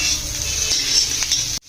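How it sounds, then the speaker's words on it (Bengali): Mashed potatoes and carrots fry in a pan over a low gas flame for a singara filling, giving a close, steady sizzle with a few scraping stirs before the sound cuts off abruptly. "গ্যাসের আঁচটিকে একদম লো করে দিয়ে আলুগুলোকে একবার ভেজে নিন।"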